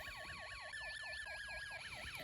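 Snap Circuits SC-750 musical siren, driven by a hand-spun motor, wails in a steady repeating up-and-down electronic sweep, loud and close and sounding alone throughout.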